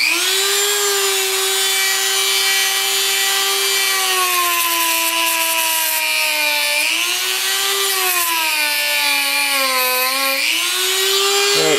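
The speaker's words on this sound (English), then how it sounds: "this metal bit does not cut silicone like it does metal" A rotary tool with a metal-cutting bit grinds into a silicone intake tube on a 2008 Nissan 350Z during a Mishimoto intake install. It makes a loud, steady, high motor whine that dips and rises in pitch as the bit loads and frees up.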